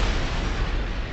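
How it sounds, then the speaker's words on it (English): Grenade blast in Fallout: New Vegas, a dense, loud roar of explosion noise sustained for about a second without clear separate hits. "Oh, that's a grenade."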